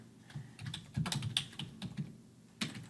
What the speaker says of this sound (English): I cannot type for the life of me today